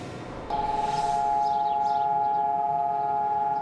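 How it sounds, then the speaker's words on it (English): A loud, steady civil defense siren tone starts abruptly and holds, sustained and wide, sounding across Israel for Holocaust remembrance. "For 2 minutes, sirens wailed throughout Israel."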